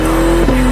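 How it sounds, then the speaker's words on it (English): A Corvette ZR1X with a flat-plane crankshaft V8 screams at high revs, a loud sustained engine tone that dips briefly and climbs again, heard close with no talking. "It also has a flat plane crankshaft, which is the thing that makes it scream instead of rumble."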